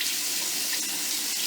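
Tap water runs steadily into a sink while hair dye is rinsed out, a continuous close hiss and splash with no pauses or voices.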